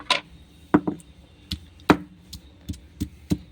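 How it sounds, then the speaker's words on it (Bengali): Onion pounded on a sil grinding stone: sharp, separate stone-on-stone thuds in an irregular rhythm, about ten strikes, close and clear against quiet. "আমি সিলে থেতো করব"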